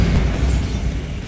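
A Bombarda spell goes off in Hogwarts Legacy, a single short, loud, deep boom that rumbles heavily and fades slightly over about a second, with no voices.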